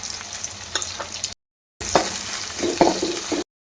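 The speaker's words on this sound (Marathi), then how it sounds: "आणि बारीक चिरलेली मिरची आणि थोडीशी कोथिंबीर हे सगळं परतवून घ्यायचं." Chopped green chilies, ginger-garlic paste and coriander sautéing in a hot pan, a steady sizzle with stirring clatter in two bursts separated by a short silent gap.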